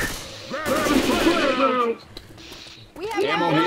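Rapid gunfire from the Left 4 Dead video game, including explosive ammo, crackles in quick bursts, with people talking and shouting loudly over much of it before a short quieter gap.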